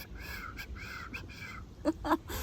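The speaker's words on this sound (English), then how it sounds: "There's a beautiful bird going" A crow calling outdoors in nature, a string of harsh caws at a moderate distance over a steady background hum.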